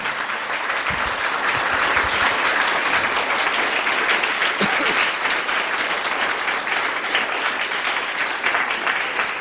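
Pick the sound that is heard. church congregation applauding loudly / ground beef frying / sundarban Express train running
church congregation applauding loudly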